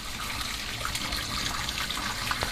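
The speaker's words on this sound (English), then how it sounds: "I'm going to strain the water and then show you the next step." Water is poured off a pot of boiled potatoes, a steady close-up splashing trickle with no pauses.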